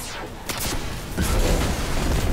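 Explosions from combat in the Destiny 2 video game on PS4, a short burst near the start followed by a heavier, louder blast that rumbles on to the end.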